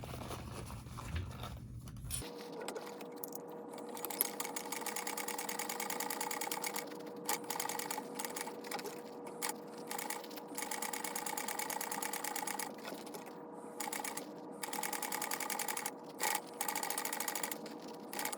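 A sewing machine runs steadily, stitching the seam allowance on a small fabric bug pack, with brief pauses and restarts in a continuous mechanical whir close to the microphone.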